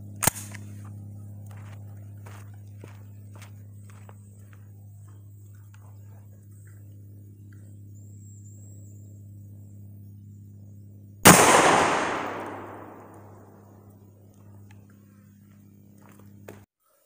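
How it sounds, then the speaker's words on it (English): A Mossberg 930 SPX semi-automatic shotgun fires one round of reloaded #00 buckshot at 10 yards outdoors: a single loud, close blast that decays over a couple of seconds, preceded by quiet handling clicks over a low hum. "All right, we're going to fire one round,"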